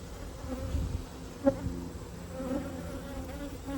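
Honeybees buzzing at an open hive during inspection: a steady, close drone of many wings humming together, with a brief louder pass near the middle and no talking.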